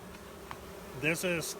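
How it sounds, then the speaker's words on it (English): Honey bees fan at an open hive in a soft, steady buzzing drone, faint and close, while a person talks over it briefly. "these bees, because the hive's open, are fanning out the scent to try to tell all the other bees, hey, here's home."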